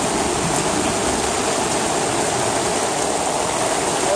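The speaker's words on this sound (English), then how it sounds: "Now we can see how the flap has opened to let all the water come out" Houston floodwater from Hurricane Harvey gushes out through a homemade drain flap, a loud, steady, close rushing splash of pouring water with no talk.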